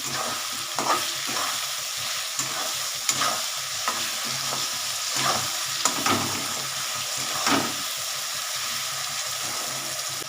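Cauliflower curry sizzles in a pan while a spoon stirs it in a loose rhythm, a series of scraping knocks over a steady low crackle, with no voices.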